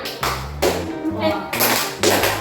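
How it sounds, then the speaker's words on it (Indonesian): A rhythmic clapping pattern in a classroom lesson, with a few sharp hand claps spaced in a short sequence under speech. "Makanya tepuk 1, tepuk 2, tepuk 3, tepuk 4 apa? Ada tepuk 4 kayak gini ya?"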